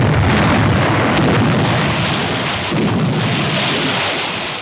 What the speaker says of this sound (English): Shore batteries and the heavy guns of the French battleship Jean Bart and several cruisers, destroyers, and gunboats put out a devastating fire.